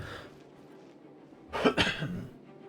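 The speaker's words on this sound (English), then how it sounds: "Tried to cough away from the microphone, but it came up out of nowhere." A sudden cough, two quick harsh bursts, rises out of a quiet room tone, close to the microphone.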